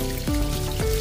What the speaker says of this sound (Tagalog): running water.